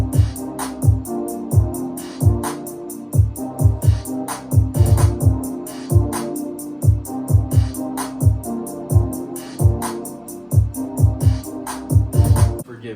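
A self-produced beat built from repeated chords layered with drums and accent hits, driving steadily and loudly throughout with a regular punchy rhythm and no talking.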